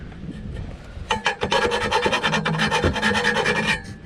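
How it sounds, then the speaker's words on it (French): A metal hand file rasps around the freshly cut edge of an exhaust tube from a 1967 Toyota Corona RT40, steady back-and-forth strokes close up and loud after a second of quieter rubbing, with no talk. "je passe un coup de lime tout le tour"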